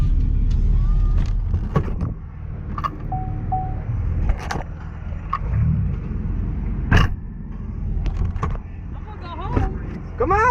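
A car idles with its engine running outside a hardware store, a steady low rumble under people talking, with a few sharp clicks and knocks along the way.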